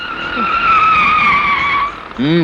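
Car tires skid and squeal loudly in a film scene, one sustained screech of about two seconds that ends in a brief engine swoop.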